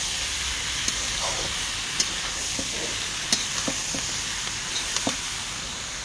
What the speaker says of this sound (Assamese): যিকেইটা পাৰোঁ সেইকেইটাকে অকণমান ভাজি গুজি লৈছোঁ